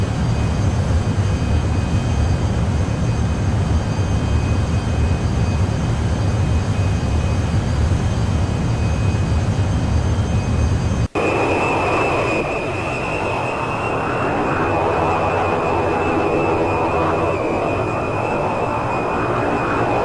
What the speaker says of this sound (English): so I'm beginning the pitch up now. And somewhere in here I activate afterburners